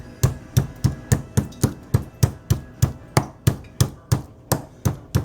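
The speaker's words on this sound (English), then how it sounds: "Just kind of pat it out. And that's tenderizing that steak." Meat tenderizer mallet pounding a steak for chicken fried steak, about seventeen evenly spaced, solid thuds close up with no talking.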